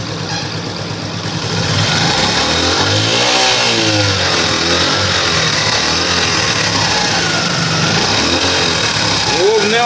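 A moped engine upgraded from 50 to 90 cc idles close by, its steady mid-pitched putter with a slight rise after the start, running continuously while someone talks over it.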